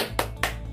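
Classroom clap rhythm called tepuk wow, two sharp hand claps about a quarter second apart, close and crisp over a faint low hum.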